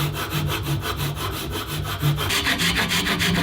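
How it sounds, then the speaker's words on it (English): Hand sawing through wood while cutting out the outlined handle shape for a restored giant butcher cleaver, a steady rhythm of back-and-forth rasping strokes, close and continuous throughout. "the handle shape is outlined and cut"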